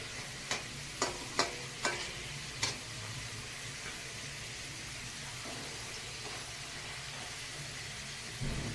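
Food fries steadily in a pan at a home party cook-up, a soft continuous sizzle with a few sharp clinks of a utensil early on, fairly quiet and without talk.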